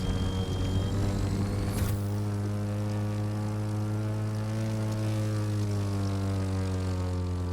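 A propeller plane engine drones steadily with a strong harmonic hum in the video game The Crew 2's plane mode, the pitch sliding slightly as it flies, after a brief whoosh near the start.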